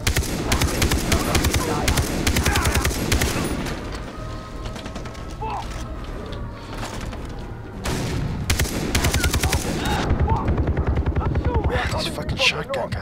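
Rapid bursts of gunfire, including enemy shotgun blasts, crackle through a Far Cry 3 firefight with a helicopter drone in the background. The shots are dense and loud, thin out briefly mid-clip and then resume, while game voices speak underneath.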